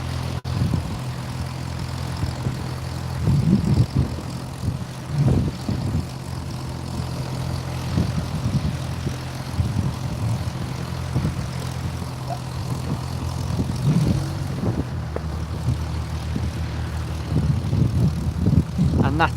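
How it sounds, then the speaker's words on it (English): A Cessna 172 propeller plane at an aerodrome, its low engine drone heard at moderate distance throughout, with intermittent bumps and handling noise close by. "And that's a Cessna 172."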